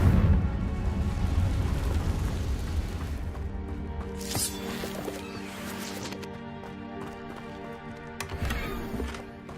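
A Confringo fire spell blasting in Hogwarts Legacy: a heavy, booming burst at the start that rolls into a fading rumble, with a few crackling flares afterward.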